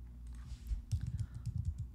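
Computer keyboard keys clatter in quick irregular bursts, close and fairly loud, with no talk over the typing.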